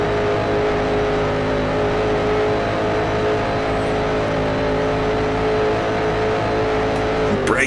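A vintage racing car engine in the Grand Prix Legends game, lapping around Monza past Ascari, holding a loud, steady high-revving drone with strong harmonic whine throughout, close and continuous with no talking.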